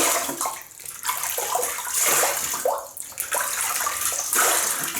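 Water runs and splashes steadily from a tap as a face is wetted before a wet shave with a double-edge razor, close and continuous with uneven splashing swells and no talking.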